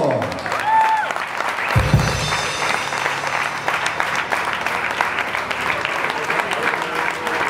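A live concert crowd at Sala Cats applauds a departing band member, continuous full clapping mixed with cheers, loud and near, with a brief low thump partway through and a faint tone ringing over the start.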